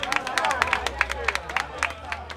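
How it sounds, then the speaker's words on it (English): A crowd at a vogue ball gives a round of applause, with sharp scattered claps and cheers rising over a voice and a low bass hum, loud and close. "Y'all can give a whole little prince a round of applause"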